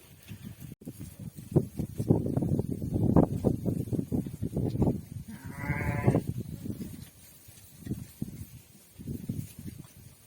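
Sheep and young lambs bleat repeatedly in a pen where they are kept eating hay during rain, several close calls overlapping with soft rustling and shuffling between them.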